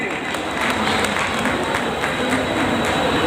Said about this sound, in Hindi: पत्रकारिता के लिए भी एक जोरदार तालियां साथियों